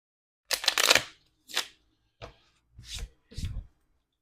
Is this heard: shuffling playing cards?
yes